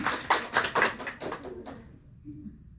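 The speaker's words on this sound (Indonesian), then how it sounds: "Tepuk tangan dulu boleh ya." A small class claps for a student during an English structure lesson, a handful of distinct hand claps in an uneven rhythm, fairly close, fading out after about a second and a half into near quiet with a faint voice.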